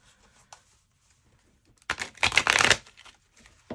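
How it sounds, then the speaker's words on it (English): Tarot cards are riffled and shuffled in a quick burst lasting about a second, close up, after a near-silent pause with faint handling. "let me shuffle real quick."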